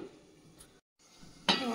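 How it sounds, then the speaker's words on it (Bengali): A metal lid on a cooking pot gives a faint clink, then after a short silence a sharper, brighter clank rings out near the end. "আবারও ঢাকনাটা খুলে দেখে নেব"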